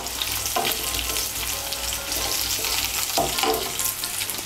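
Potato and taro pieces being stirred and fried in a pan for a Bengali vegetarian curry, a steady loud sizzle with scraping stirs of the spoon recurring throughout, no talk.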